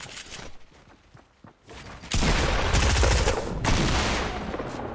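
Rapid bursts of video game gunfire in a competitive online shooter match, starting quieter and then turning into a loud, dense stretch of sustained automatic shots that runs to the end.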